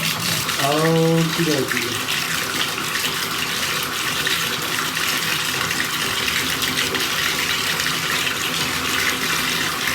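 Water gushes steadily into a container set up to test GoPro Hero 10, Hero 9 and Hero 7 cameras, a loud continuous fill throughout with brief talk near the start.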